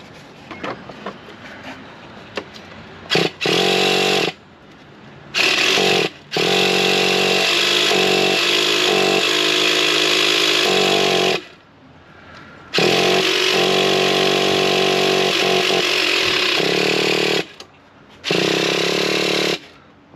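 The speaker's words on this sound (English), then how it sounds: "we're going to fire them up and let them idle for a bit" A Traxxas T-Maxx nitro RC truck engine runs loud and raspy in several bursts separated by short drops and pauses, each burst a sustained high-pitched buzzing idle.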